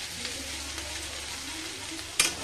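Ivy gourd (kundru) fries in oil without potatoes, giving a soft, steady sizzle close by, with a sharp clatter near the end.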